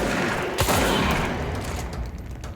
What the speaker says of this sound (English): And then we shoot him in the face with a shotgun.